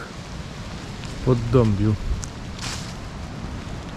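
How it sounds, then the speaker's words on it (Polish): Light rain patters steadily in a park beneath a canopy of trees, a soft broadband hiss running through the whole stretch while a person speaks briefly near the middle. "Pada deszczyk, ale tu jest tyle drzew, że nawet tego tak nie czuć"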